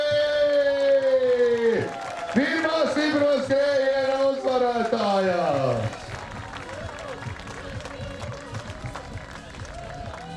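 Spectators at the 2010 Stipro Skrējiens race applaud and cheer the first winner under a loud announcer's voice, then steady clapping carries on alone.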